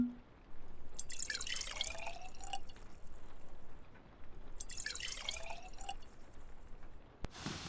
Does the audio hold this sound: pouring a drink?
yes